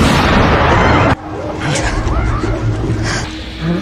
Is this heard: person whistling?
no